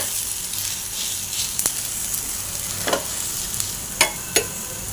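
Thalipeeth flatbread roasting in oil on a pan, a steady soft sizzle with a few sharp clicks and scrapes as it is turned, close and without talk.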